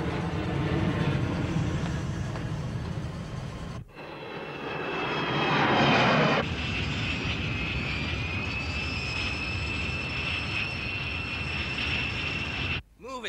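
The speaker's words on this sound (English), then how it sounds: "Trying to land an aircraft here." Engine of an aircraft coming in to land in a 1994 anime, a steady loud roar with a rising high whine that holds through most of the stretch, broken by two brief dropouts.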